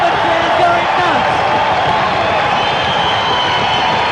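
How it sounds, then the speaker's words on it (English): A kickboxing arena crowd roars wildly and continuously, a dense wall of cheering that stays loud from start to finish, with brief voice tones near the start. "Straight back up and the crowd going nuts."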